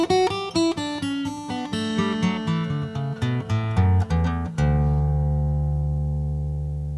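A guitar plays the notes of a song as a run of clear, picked single notes and chord tones descending in pitch, then ends on a sustained chord that rings out and slowly fades, solo and close.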